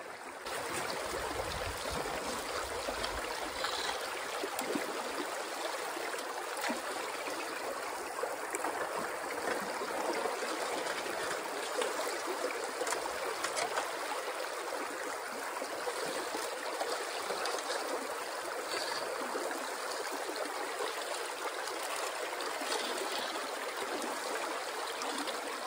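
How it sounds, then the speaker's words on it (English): Water runs steadily through a gold sluice box as classified material is fed in, a continuous close rushing and trickling flow with no break. "We'll run it through, test it out, and see how well that's actually flowing."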